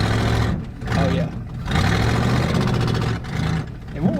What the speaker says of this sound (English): It revs pretty good in neutral.